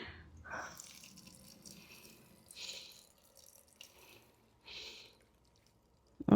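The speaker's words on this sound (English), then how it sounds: "maybe I should me see if I can dump some of this water" Water dumped out of a plant propagation container into a sink, heard as several short splashing pours with pauses between them, close and fairly quiet.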